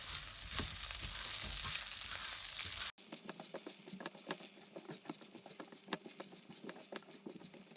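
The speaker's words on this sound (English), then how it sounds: "So we'll add that in. We'll give this a stir around." Grated ginger and lentil curry sizzling in a frying pan while being stirred, a dense crackling hiss that cuts off sharply and returns as softer patter with scraping stir sounds, close by and without talk.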